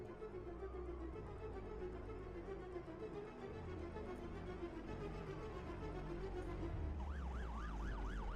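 A police car siren rises and falls in a sweeping wail near the end of an action scene from a 2023 South Indian film, entering over a loud, dense score and rumbling background.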